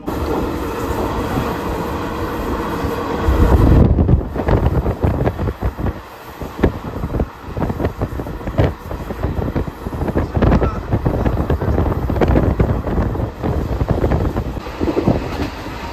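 A passenger train runs at about 109 km/h between Tarapith and Kolkata, giving a loud steady rumble with rhythmic wheel clatter and gusty wind noise on the microphone.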